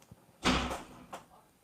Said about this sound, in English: There's a door open somewhere and there's a bit of breeze and it's slamming.